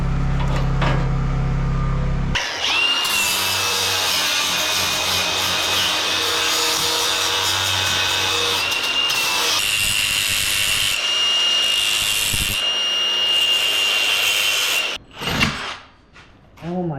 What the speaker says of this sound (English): Tricky part was that it's such a small part the table couldn't grab it, so I put it in the vise real quick and drilled it out that way.